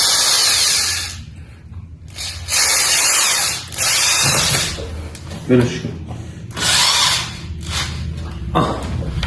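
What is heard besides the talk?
power drill drilling wood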